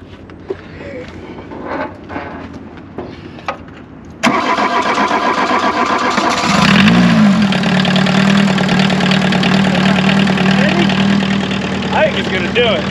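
Abandoned Volkswagen Rabbit left in the woods cranks briefly, then its engine catches and settles into a loud, steady idle after a few faint knocks and rustles at the start.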